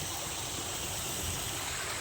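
Water rushing out of a small dam, a steady dense hiss of flowing water close by with no pauses and no voices.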